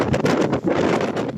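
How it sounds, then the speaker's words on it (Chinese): Strong typhoon wind gusting through city streets in Taitung, with buffeting and rushing noise that hits the microphone in surges and stays loud and continuous throughout. "市区的风同款真强"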